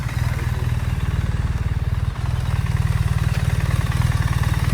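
A motorcycle engine idling close by, with a steady, rapid low throb and a brief dip partway through, heard on its own.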